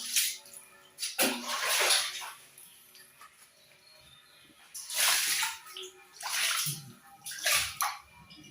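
Water rushing and splashing across floor tiles as lemon water is rinsed away, coming in several loud surging pours with quieter gaps between.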